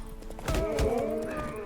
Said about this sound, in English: our horse just ran the deers over and killed them